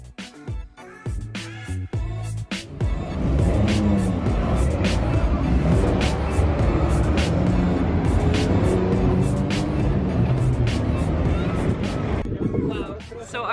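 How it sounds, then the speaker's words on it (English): A real Formula race car drives around the Zandvoort circuit in Holland, its engine a loud sustained drone with sharp gearbox shifts and revs at the start, under a voice talking. "I especially love the sound of the gearbox."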